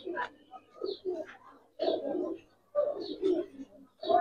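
Giribaz silver lalpatti pigeons coo in a series of soft, throaty bursts, several close calls spaced irregularly with brief pauses between them.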